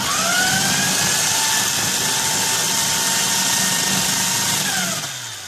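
An electric coconut shredder scraping an uneven coconut, a steady loud motor whine with grinding scrape that holds constant then tapers off at the end.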